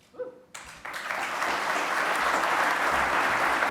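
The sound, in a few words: audience applause after keynote talk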